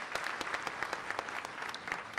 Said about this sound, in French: Merci, cher public, d'applaudir les copatronnes de la COPAD 4